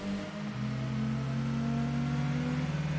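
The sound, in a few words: V8 engine of a Mercedes AMG car in video game Gran Turismo 2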